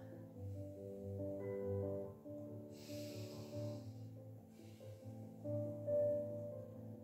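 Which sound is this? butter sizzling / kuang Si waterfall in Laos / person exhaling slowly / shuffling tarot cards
person exhaling slowly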